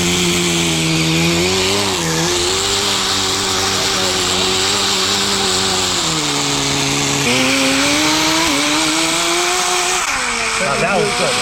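Kyosho Blizzard tracked nitro RC vehicle with a two-speed transmission runs its small engine at a loud, buzzing, continuous whine, pitch rising and dipping as the throttle changes and gears shift, close up.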